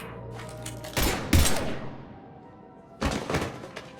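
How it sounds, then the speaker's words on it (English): Gunfire in the video game Mass Effect 3: two short bursts of heavy shots and thuds, roughly a second apart and then again after a pause, loud and close over a low hum. "Now open fire!"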